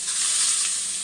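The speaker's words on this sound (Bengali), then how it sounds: "এখন পেঁয়াজটা দিয়ে দেবো," Onions frying in hot oil together with potatoes give a brief, loud, steady sizzling hiss, close and with no talk.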